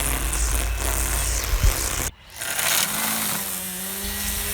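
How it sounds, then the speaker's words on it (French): A Greenworks battery brush cutter's spinning line whirs and thrashes through grass in a continuous close buzzing swish, briefly cutting out for a moment midway before resuming. "le bruit généré provient surtout donc du fil fauchant l'herbe"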